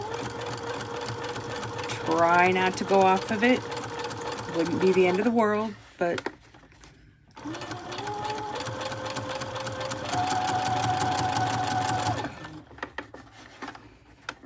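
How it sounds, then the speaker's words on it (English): A sewing machine stitches along a fabric zipper edge in close, steady runs of mechanical whirring that stop and start, with a speaker talking over and between the runs. "So you're going to stitch now right along the edge of this zipper edge"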